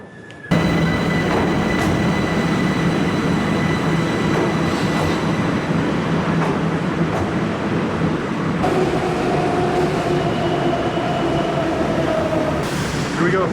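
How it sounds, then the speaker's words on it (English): A Tehran subway train pulls into a busy underground station, a loud steady rumble and roar of wheels on rails with faint squealing tones and clicks, sustained and close throughout. "My first subway ride in Tehran"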